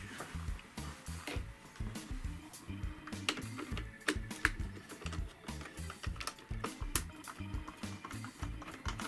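Small screws on the front panel of a Panasonic RS-363 cassette deck are worked loose, making a close series of rhythmic clicks and light scraping ticks repeating steadily throughout, with no talking.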